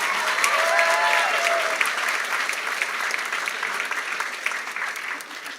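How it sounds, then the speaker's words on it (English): Audience applause at a school awards ceremony fills the room steadily throughout, a dense wash of clapping with a few faint tonal squeaks early on, fairly loud and sustained without pause. "can we give a big round of applause to Mr. Schwartz"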